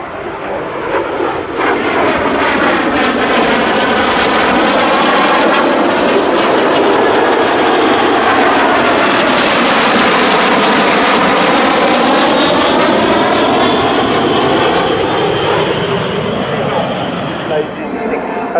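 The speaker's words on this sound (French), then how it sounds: "we have 2 jets from the right, 4 jets from the left" Six Breitling Jet Team Albatros jets converging in formation, two from the right and four from the left, at a Belgian Air Force Days 2018 airshow: a loud, continuous jet roar whose pitch sweeps up and down as they pass, with an announcer likely talking over it.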